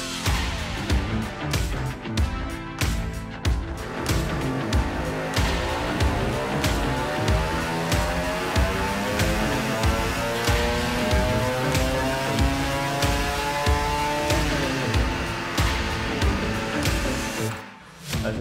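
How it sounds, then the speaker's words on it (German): Carbureted engine roaring at full throttle in two wide-open runs, one on a 135 main jet and one on a 162 main jet, a loud, steady, close buzzing drone with rising harmonic sweeps, cutting off abruptly near the end. "Also hier sind die beiden Vollgasläufe, einmal mit 135er Hauptdüse und dann mit 162er Hauptdüse."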